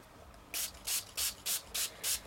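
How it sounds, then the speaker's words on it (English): A spray bottle mists paint onto paper in six short, evenly spaced hissing puffs, fairly close and alone over faint room noise. "And I'm going to spray it rather well actually, because there isn't that much color there."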